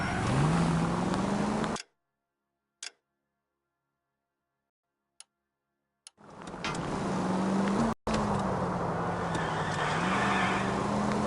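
Cars in L.A. Noire driving on city streets: a loud steady engine drone with rising and falling pitch, cut by a stretch of near silence, then the engine roaring back in, with no talking.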